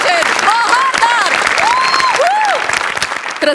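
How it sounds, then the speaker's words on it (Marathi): Loud, continuous audience applause and cheering at a Marathi comedy sketch show taping fills the space, steady throughout with a few whistles rising above the clapping. "जोरदार टाळ्या झाल्या पाहिजेत."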